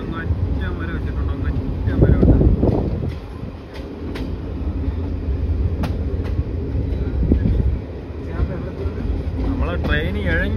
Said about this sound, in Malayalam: ട്രെയിന് ഇഴഞ്ഞഴഞ്ഞാണ് കൈസ് പോകുന്നത്.